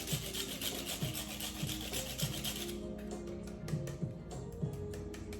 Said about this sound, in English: Now, also fresh cinnamon. And just grate it right into that.